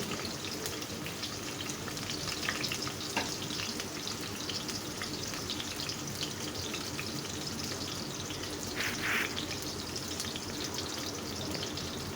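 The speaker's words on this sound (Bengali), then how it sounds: "প্রথমে তেল দিয়ে নিলাম পেঁয়াজ রসুন কুচি দিয়ে দিলাম" Chopped onion and garlic frying in hot oil, a continuous even sizzle and crackle like light rain, held close and steady throughout with no voices.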